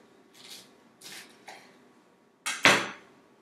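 A knife slicing down through a serrano chili pepper on a cutting board, with a few soft scraping strokes followed by two sharp, close knocks of the blade hitting the board.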